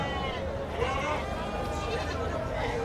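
Sheep bleat amid the crowded din of a sheep market, several wavering calls rising over constant chatter and background voices.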